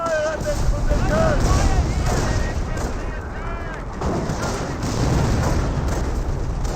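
A grenade bursts in the World War II strategy game Company of Heroes, a heavy boom within a dense stretch of battlefield gunfire and artillery rumble, with someone commentating over the fighting.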